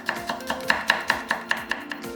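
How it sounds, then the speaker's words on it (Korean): A knife slices through a cheongyang chili pepper on a cutting board in about a dozen quick, even chops, crisp and close with a steady rhythm, nobody talking. "청양고추 1개는 슬라이스"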